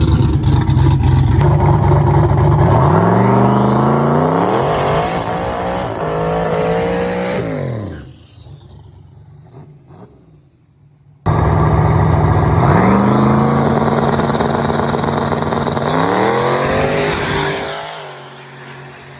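A turbocharged Ford Mustang launches down a drag strip, its engine roaring loud and close as it climbs through the gears, fading briefly then returning as the pass continues.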